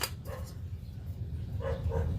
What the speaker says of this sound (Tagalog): Aking aso.